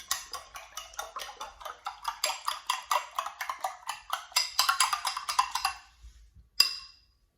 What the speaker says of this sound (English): I'm using 3 eggs for this banana cake. I'm gonna give it a whisk. I'm using my spoon.